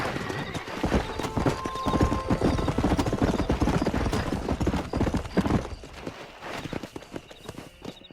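In the Red Dead Redemption video game, a horse gallops with rapid, loud clip-clop hoofbeats and lets out a whinny, and the pounding eases off slightly near the end.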